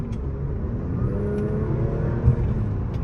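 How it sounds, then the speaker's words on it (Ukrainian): Audi A6 3.0 TFSI quattro running with an aftermarket chip tune, its supercharger compressor giving a steady whir over a low engine rumble, close and continuous with a brief thump near the end. "Чуєте звук компресора?"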